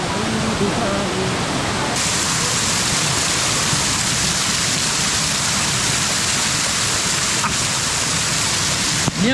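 The waterfall at Meethirigala rushes as a dense, constant roar of splashing water, loud and close, with voices faintly mixed into the wash.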